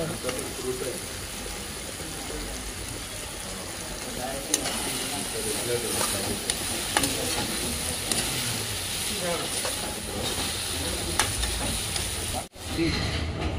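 Boti, goat tripe, frying in a pan, giving a continuous loud hiss and sizzle with scattered crackles throughout, briefly cut near the end, with some voices faint underneath.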